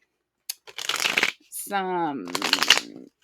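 Tarot cards being shuffled by hand, in two brisk bursts of riffling and slapping close to the mic, with a short voiced hum or murmur between them.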